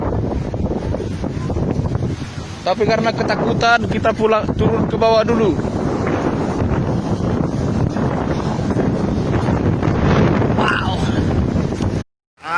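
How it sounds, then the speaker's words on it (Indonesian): A whirlwind waterspout spins over the sea at Bengkong, Batam, its roaring wind buffeting the microphone continuously, with anxious people talking throughout. "Angin puting beliung."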